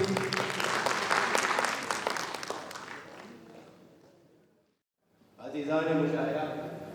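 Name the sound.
audience applause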